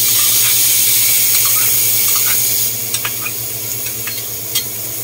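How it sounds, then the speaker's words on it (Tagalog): Mushrooms sauté in a pan for homemade embutido, a loud dense hiss filling the first half before easing into a softer sizzle with a few spatula knocks, close by. "Okay, so igisa ko itong mushroom."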